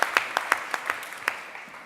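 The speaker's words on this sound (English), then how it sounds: "Your applause once again" Scattered handclaps from a live audience at a startup pitch event, sparse and rhythmic rather than a full ovation, fading off toward the end of a short burst.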